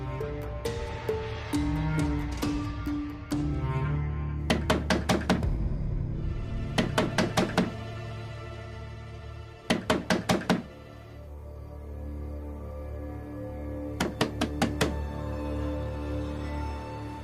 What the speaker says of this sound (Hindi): कुछ देर दरवाजा खटखटाएगा, फिर खुद ही समझ जाएगा कि हम सो गए।